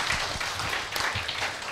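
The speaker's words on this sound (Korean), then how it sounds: "여러분들의 큰 격려의 박수 부탁드립니다" Sustained audience applause in a hall at a Korean tea culture symposium, honoring the four speakers, a dense even wash of clapping at moderate distance.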